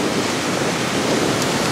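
Ocean surf on a Florida beach at Longboat Key washes in as a steady, broad roar blended with wind noise on the microphone, with no voices.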